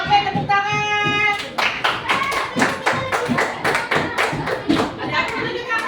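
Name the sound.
classroom clapping hands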